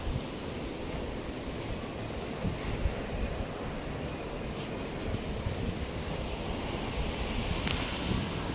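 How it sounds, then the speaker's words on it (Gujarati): Strong stormy wind blowing at night in Chobari, Kutch, during unseasonal rain, a steady loud roaring rush with gusty buffeting against the microphone and no voices. "કાયદેસર પવનનું ફૂલ તુફાની વાયરો ચાલુ છે અત્યારે"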